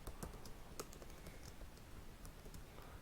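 Code being typed on a computer keyboard for a data structures array-insertion program: a steady run of light, rapid key clicks at close range with no talking.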